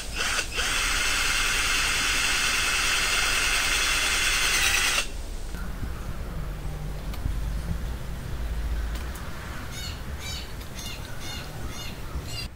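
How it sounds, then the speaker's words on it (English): A power drill boring a hole in PVC pipe whines loudly and steadily for about five seconds, then stops, leaving quieter background noise with faint bird chirps. "I'm going to try and drill a new hole that's slightly smaller"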